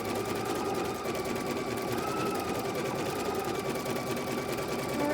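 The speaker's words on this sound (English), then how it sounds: "now we're just quilting" A sewing machine stitches orange peel quilt blocks, its needle running in a fast, steady, continuous whir at close range with no pauses across the stretch.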